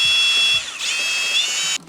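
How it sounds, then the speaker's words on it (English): A power drill bores a hole in a 2025 Jeep Wrangler, a close high-pitched motor whine that dips briefly under load, recovers, and then cuts off abruptly. "I'm just gonna drill it out"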